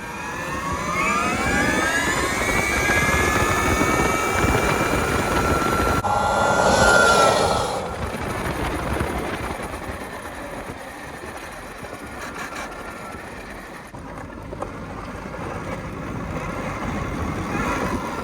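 A KTM Freeride-based electric trike accelerates in its second power mode, its motor whine rising steeply in pitch. A rushing burst follows, then quieter rolling and motor hum as it settles.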